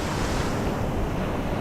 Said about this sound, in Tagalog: Uy, lakas na rin ng alon